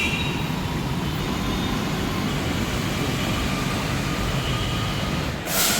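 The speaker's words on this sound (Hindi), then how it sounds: "ट्रेन मुझे छोड़ के जा चुकी है" A metro train pulls out of the station, a loud, steady rushing roar of wheels and motors that fills the scene without a break and ends with a brief hiss near the close.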